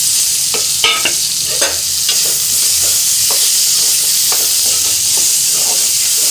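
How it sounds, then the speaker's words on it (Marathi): Steamed amla slices stirred in a hot pan for pickle, a loud steady sizzle and hiss with repeated close scraping strokes of a spoon, no speech. "थोडीशी हळद आणि आवळे याला वाफवून मी याचे काप काढलेले आहे आणि हे सगळं याच्यात टाकायचं आहे"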